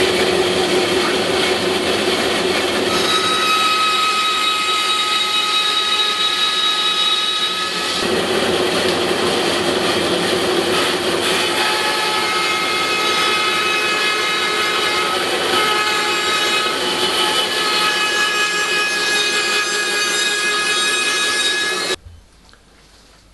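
A band saw cuts wood for swinging arms in a woodworking shop, a loud steady whining drone that runs for about twenty seconds, then cuts off abruptly near the end.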